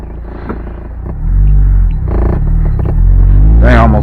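A Mazda Miata's engine drones low and steady from inside the cabin while driving, the rumble swelling louder partway through and holding, with a faint brief squeak near the end.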